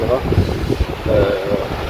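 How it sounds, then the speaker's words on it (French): Wind gusting at a beach, a steady broad roar with buffeting microphone rumble that persists throughout, while someone talks over it. "J'espère qu'on entend bien parce que derrière il y a la plage, il y a le vent."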